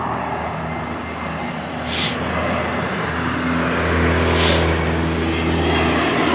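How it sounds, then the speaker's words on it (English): Propeller airplane passing overhead on a town walk, a loud broad engine roar that swells and holds steady throughout, with no voices over it. "Sorry, I had to let that plane pass."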